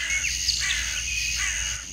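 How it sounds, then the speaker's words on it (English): Crows caw a few times at a distance over a steady hiss of background noise. "he could hear the distant cries of crows and wild dogs."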